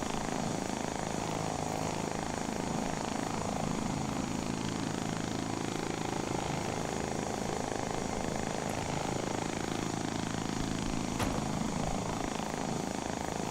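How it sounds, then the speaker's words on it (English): A helicopter engine in the video game ArmA spools up as a steady, droning engine and rotor roar. It stays even in level throughout, with no voices. "You always spool up, and flaps go down before you take off."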